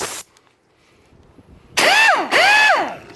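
An air impact wrench with a titanium head, a Snap-On MG725 or an Ingersoll Rand 2135Q, cuts off after a short burst, then after a pause fires two loud, sharp rattling bursts close by.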